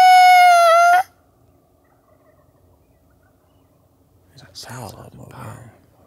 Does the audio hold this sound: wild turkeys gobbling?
yes